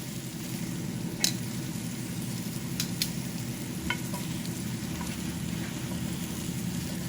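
Steak searing in a pan alongside a meal of potatoes and corn, a steady close sizzle and crackle with scattered sharp spits and pops, no voices heard.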